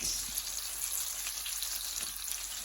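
Plantains frying in butter in a pan over medium heat, a steady close sizzle with fine crackling pops throughout, without talk.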